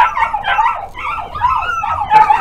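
An English Cocker Spaniel puppy whimpers and yips close by in a steady run of high, wavering whines and short yelps, with no talking over it.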